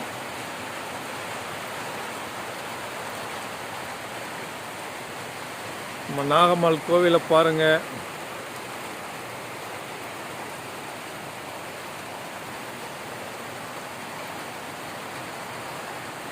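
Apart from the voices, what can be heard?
heavy rain falling at a hill temple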